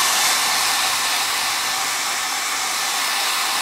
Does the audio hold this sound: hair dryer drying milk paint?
yes